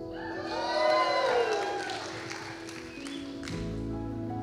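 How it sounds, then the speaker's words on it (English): Wedding guests at a reception cheer and whoop after a father-of-the-bride toast, a swelling burst of voices that peaks early and then fades into murmuring crowd noise. "Kimmy, so dear, and her husband, Jeremy, let's give a cheer"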